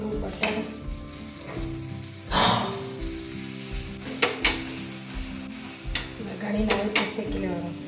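A dabeli bun toasting in butter on a pan sizzles steadily up close, with repeated clinks and scrapes of a utensil against the pan over the frying hiss.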